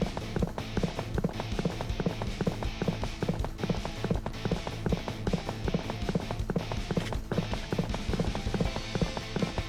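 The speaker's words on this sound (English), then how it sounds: "Yeah, it sounds like hoofbeats." A giant horse gallops in Fate/Grand Order, its hoofbeats a rapid, continuous clatter of regular beats, steady in loudness throughout and heard alone.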